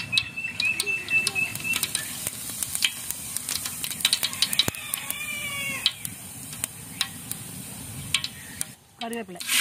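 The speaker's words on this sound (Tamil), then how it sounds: "எண்ணெய் காஞ்சி வச்சு கடுகு போடுறேன். கடுகு பொரிஞ்சு வச்சு சீரகம் போட போறேன்." Mustard seeds, then cumin, splutter in hot oil in a pan for a village-style aloo poha, with sharp scattered pops over a steady sizzle, close by. A cat meows briefly in the background.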